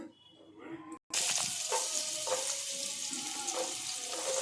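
Carrots fry in hot oil in a pan for vegetable fried rice, a soft continuous sizzle that starts abruptly after a short quiet moment and holds steady with faint stirring clicks.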